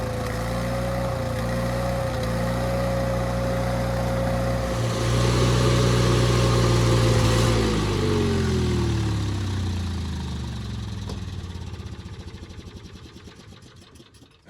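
A Lincoln SA welder's engine, left sitting about a year and likely on bad fuel, runs off choke with a steady mid-pitched drone, briefly rising in speed and then settling lower as it slows toward the end.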